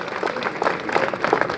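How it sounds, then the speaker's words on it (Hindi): A small audience gives scattered, steady applause for a girl at a student award ceremony in Kishangarh, the claps overlapping at moderate loudness without a single voice standing out. "इस बच्ची के लिए जोरदार तालियां हो जाए।"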